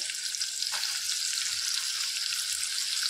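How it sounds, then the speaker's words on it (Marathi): Onion and a pinch of asafoetida frying in hot oil, a steady loud sizzle that holds evenly throughout with no voices. "त्यानंतर मी एक मीडियम साईजचा कांदा घेतलेला आहे, तो टाकणार आहोत"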